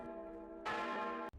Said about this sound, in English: Church bells toll constantly as fear grips every neighborhood.